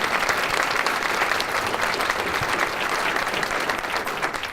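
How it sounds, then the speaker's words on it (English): Workers applaud at a City of Albuquerque mayoral news conference, producing a continuous wash of steady crowd clapping that stays even and unbroken from start to finish. "I'd like you all to give yourselves a round of applause"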